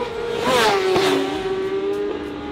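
Motorcycles, including a Yamaha R6, rush past at speed on a race track at a riding festival, a loud rising whine that bends downward in pitch as they pass close by, with another engine following.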